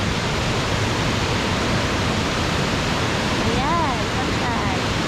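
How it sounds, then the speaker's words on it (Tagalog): Mantayupan Falls, a waterfall in southern Cebu, roars as a steady, loud broadband rush of falling water throughout, with faint voices briefly audible beneath it near the end. "This is the falls right here."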